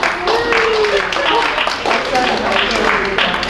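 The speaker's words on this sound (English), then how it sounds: "Let's give yourself a round of applause." An audience at a presentation on positive psychology for stress relief applauds, a dense, loud wash of clapping mixed with scattered voices throughout.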